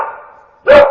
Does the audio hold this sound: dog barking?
yes